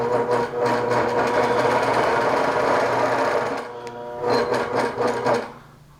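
A sewing machine stitches a tree wall-hanging in a steady, close mechanical whir that slows briefly near the middle, then resumes in short bursts before winding down.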